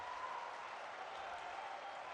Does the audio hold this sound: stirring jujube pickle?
no